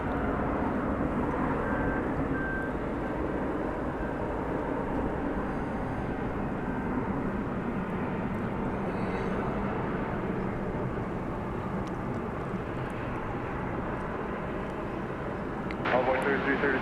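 An airliner takes off at night at DFW Airport, a sustained loud engine roar that holds steady and close throughout, with a voice talking over it.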